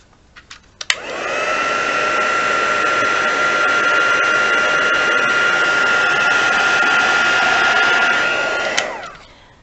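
A heat gun melts embossing powder in a papercraft project. It switches on with a click, blows a steady whirring roar for about eight seconds without voices, then cuts off with another click.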